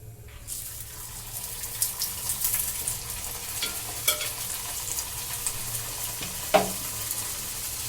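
Green peas kachori deep-fry in a pan of hot oil with a steady, close bubbling sizzle and a few soft clinks and scrapes of a utensil.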